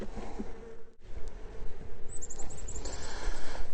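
Honey bees buzzing around an opened hive during a spring inspection, a dense continuous hum close by with brief high whines as individual bees pass, no talking.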